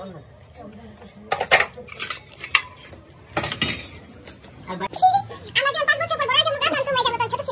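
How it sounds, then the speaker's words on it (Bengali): Plates and cutlery clattering as dishes are pulled out for serving at a home dinner gathering, irregular close clinks and scrapes in bursts, with people talking throughout. "স্যারে খাবারের জন্য প্লেট বের করতেছে"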